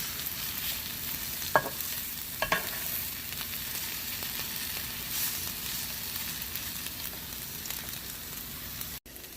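Vidalia onions sizzle on a griddle for smash burgers, a steady, dense crackling hiss held at an even level throughout, with a couple of brief scrapes near the start and no talk.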